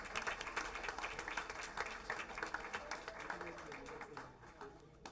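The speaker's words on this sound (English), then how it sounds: "Let's give them a big round of applause." Parents of the students who presented are applauded at a school board meeting, a fairly faint spread of clapping from a seated crowd that thins toward the end, with some voices mixed in.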